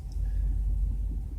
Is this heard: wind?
yes